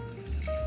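Hot water pours in a thin, steady trickle over coffee grounds in a pour-over brewer, close and continuous, alone without talk.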